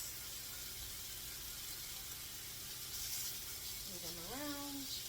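Pork sausage patties frying in a pan with a steady, quiet, broadband sizzle. Near the end a voice briefly speaks over it.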